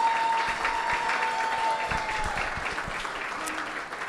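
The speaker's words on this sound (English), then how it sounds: "give Megan a big round of applause for today" Audience applause at a SciStarter welcome gathering, steady clapping from a room of people sustained for about four seconds at moderate level, with faint talk mixed in.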